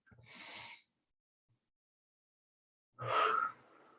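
Two separate audible breaths during a gentle yoga flow, a soft inhale followed after a quiet pause by a stronger, nasal exhale, close and alone.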